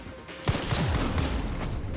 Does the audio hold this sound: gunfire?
yes